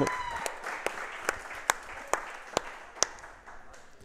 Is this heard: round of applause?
yes